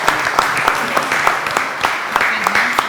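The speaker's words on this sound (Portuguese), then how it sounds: "Salva de palmas." Dense applause from an audience at a wine and vineyard debate session, steady clapping with no break across the whole stretch, loud and close.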